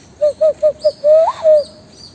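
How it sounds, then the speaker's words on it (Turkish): An owl-like hooting call used as a signal rings out loud and close, a run of four short even hoots followed by two longer, drawn-out notes, with no talk over it. "Onların işareti bu. Baykuş."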